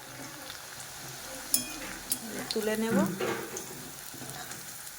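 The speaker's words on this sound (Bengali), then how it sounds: "আর একবার ভাজা করে নিচ্ছি, ডবল ফ্রাই করতে হবে, তাহলে ক্রিস্পি হবে" Food deep frying in hot oil during a second fry for crispiness, a soft continuous sizzle with a few sharper spatters and stirring clinks, a brief voice speaking midway.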